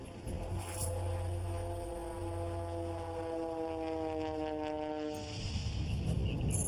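A small propeller plane in Alaska drones at close range with a loud, steady engine hum whose pitch slowly slides downward before a louder rushing burst at the end.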